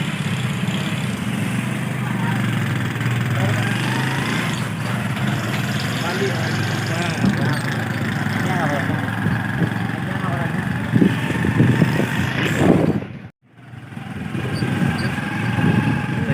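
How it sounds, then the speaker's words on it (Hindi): Motorcycle engine running steadily as riders climb aboard to set off on the road to Lahore, a continuous low mechanical drone under chatter and ambient noise, with a brief dropout near the end. "बाइक पे बैठ गए अभी निकल रहे हैं।"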